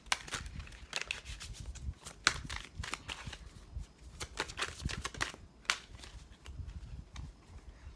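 Tarot cards are shuffled by hand up close, a rapid series of crisp riffling flicks and soft slaps in irregular bursts, with no talk.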